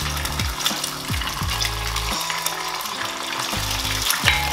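Eggs frying in a pan on the stove, a steady crackling sizzle with rapid spits and pops throughout, close and continuous with no voices.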